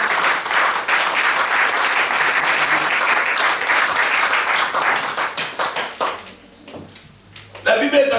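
A church congregation applauds and cheers in a sustained burst of dense, loud clapping that thins into scattered claps before the sermon resumes, with a voice speaking over the end.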